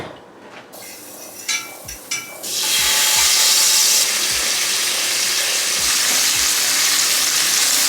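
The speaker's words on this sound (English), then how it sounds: "So I'll just crisp up those little tofu pieces" Small tofu pieces crisp in a pan with plant butter, a loud steady sizzle rising after a few soft knocks and clatters, then holding strong with occasional low thumps of the pan.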